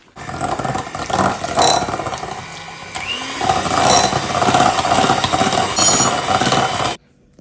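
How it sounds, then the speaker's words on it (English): A hand blender whirs as it beats unsalted butter for a red velvet cake, a loud, steady motor drone that wavers slightly and stops abruptly near the end. "I'm just going to use a hand blender and just beat it for a couple of minutes"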